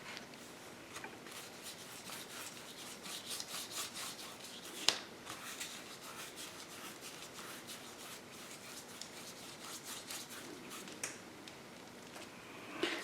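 A brush or cloth rubs extreme silver paint onto a steampunk pumpkin, producing soft, repeated scratchy strokes close by and quiet, with a few sharper taps.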